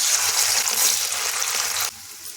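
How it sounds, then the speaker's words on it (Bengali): Paneer pieces fry in hot white oil in a wok, giving a loud, steady crackling hiss that drops abruptly to a softer sizzle near the end. "এখন পনিরগুলো ছেড়ে দিয়ে ভেজে নিচ্ছি।"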